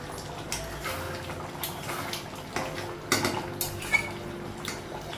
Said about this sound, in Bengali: ঢাকনাটা উঠাবো